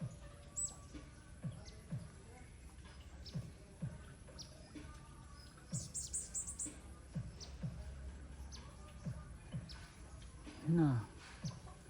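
Small bird calling outdoors, with faint chirps and tweets scattered through background noise and a louder call near the end, while a person talks over it.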